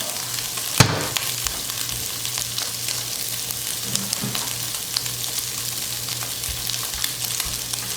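Dominican longaniza pork sausage browns in a dry pan with a steady close sizzle, a sharp clatter near the start and occasional light stirring scrapes, no speech.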